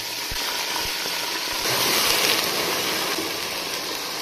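Water poured into a cooking pot of browned onions with ginger paste, giving a steady, close hiss and sizzle that swells slightly midway and holds to the end.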